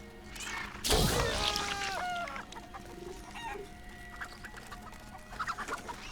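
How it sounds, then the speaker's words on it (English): A player character transformed into a chicken in Diablo 3 clucks, with a loud burst at the start followed by a run of clear clucks and crowing-like calls, then fainter scattered clucks amid game sounds. "Now we turn into a chicken and go around for 15 seconds."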